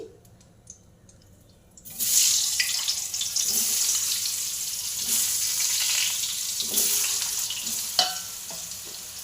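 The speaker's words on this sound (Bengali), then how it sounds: "আগে আলুটা আমি ভেজে নিচ্ছি।" Potatoes sizzle loudly in hot oil in a home kitchen, a steady hiss that bursts in when they hit the pan after a quiet start, with occasional stirring clatter and a sharp spike near the end; no talking.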